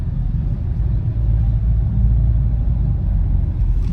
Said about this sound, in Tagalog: Ayan ang traffic